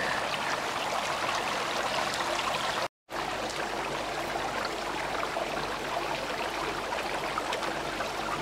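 Salt brine trickling down a graduation tower at a spa in Bad Westernkotten, a soft continuous patter of fine droplets like drizzle, with one brief dropout partway through.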